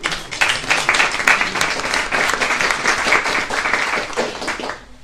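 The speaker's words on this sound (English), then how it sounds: "So a big round of applause for them" An audience at a lecture applauds, a lively burst of many hands clapping close and loud, holding steady before tapering off at the end.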